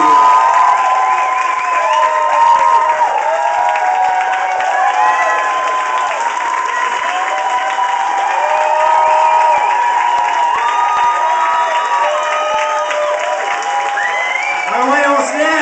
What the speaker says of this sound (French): J'aimerais vous demander de donner une bonne main d'applaudissement à John Zoumbourakis.